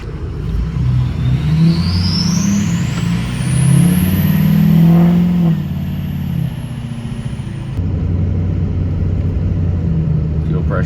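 A diesel truck is power braked in reverse in a driveway, its engine revving up to a loud, heavy roar with a rising whine, holding briefly, then dropping back to a rumbling idle, with voices present at times.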